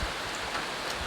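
Steady rain falling on a surface, an even hiss of dense drops with no other sounds, soft and continuous throughout.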